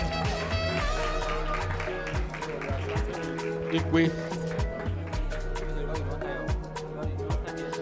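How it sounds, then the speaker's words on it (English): Scattered hand claps from an audience at a veterinary graduation oath-taking and induction ceremony, sharp and irregular and growing denser toward the end, mixed with voices and a low hum. "Let's give him a round of applause."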